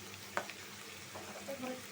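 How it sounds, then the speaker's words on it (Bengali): Spices sauté in a pan with a splash of water, a quiet, steady sizzle broken by a couple of faint stirring scrapes. "একটু পানি দিয়া মশলাটা কষায় নি"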